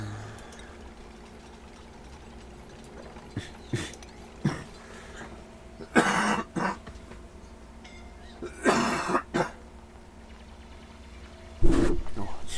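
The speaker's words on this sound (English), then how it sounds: "Had a wicked cough the last couple of days." A person coughs in several short, loud bursts scattered across the stretch, each harsh and close, with quiet room tone between and no talk.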